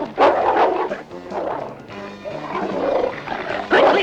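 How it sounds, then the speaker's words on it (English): Cartoon dog barking while tracking a scent through a castle, loud yelping barks at the start and end with busier barking and music in between. "The dog's on the scent of those two intruders."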